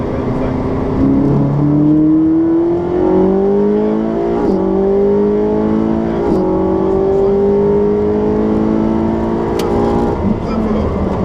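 A Ferrari 458 Special engine drones loudly from inside the moving car, its pitch climbing steadily through the gears with brief dips at each shift, a continuous mechanical roar throughout.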